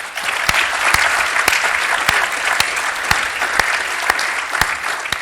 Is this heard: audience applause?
yes